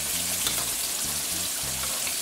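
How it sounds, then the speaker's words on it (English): Chicken wings deep-frying in hot oil, a steady loud hiss and bubbling crackle that fills the scene, with low rumbling pulses underneath and no one talking. "And let them take their time and fry until they're nice and golden brown."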